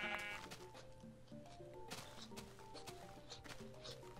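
In the Minecraft video game, a sheep bleats faintly behind soft background music and scattered clicking, in short wavering cries.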